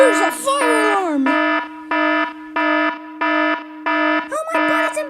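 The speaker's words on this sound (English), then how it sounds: "The fire alarm's going off and there's no teacher!" A school fire alarm sounds loud and close in a regular series of harsh buzzing beeps, about six evenly spaced pulses, with brief animated voices at the start and end.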